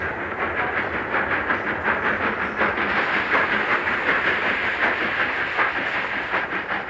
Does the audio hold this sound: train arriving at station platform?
yes